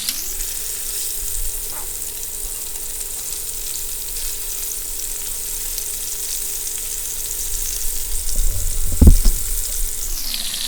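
Cheddar-stuffed meatballs sizzle steadily in a pan as they brown, a constant hiss that grows busier with clatter and a short burst of scraping near the end, with no talking.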